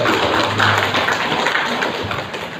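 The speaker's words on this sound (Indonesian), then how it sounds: "Tepuk tangan untuk muslimat." An audience at a Muslimat NU 75th-anniversary gathering applauds for Muslimat: a dense, steady wash of many hands clapping, fairly loud and continuous throughout, with no talk over it.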